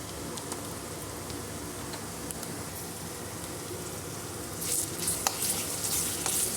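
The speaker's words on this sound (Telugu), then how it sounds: "పచ్చివాసన పోయే వరకు ఫ్రై చేసుకుందాము." Ginger garlic paste fries with meal maker soya chunks in a hot pan, giving a soft, steady sizzle with light crackling that grows a little brighter and more spattery toward the end.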